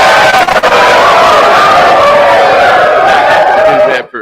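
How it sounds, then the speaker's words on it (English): A crowd cheering and shouting at a live Friday night event, a loud dense roar of many voices that holds steady and then cuts off sharply at the end. "The crowd is cheering you."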